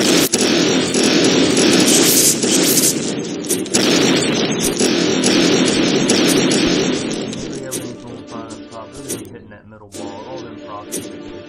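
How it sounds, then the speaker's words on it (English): Missile explosions in the Castle Clash mobile strategy game, a dense, loud wash of booms and bursts rolling continuously for most of the stretch before thinning and fading toward the end, with game music and effects layered in. "I love the amazing missiles. They are just so beautiful coming across the board."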